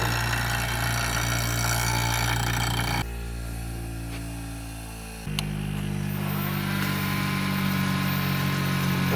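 Wood lathe turning a piece at high speed, a steady loud mechanical whine that drops away for a couple of seconds, then returns with the motor spinning back up and holding a constant hum.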